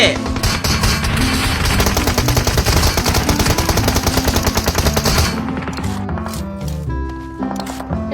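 Rapid, steady bursts of automatic gunfire from a video game, loud and dense for several seconds, then stopping as tonal game sounds take over.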